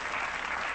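Brief, steady wash of audience applause from a talk-show crowd, dense and even for under a second.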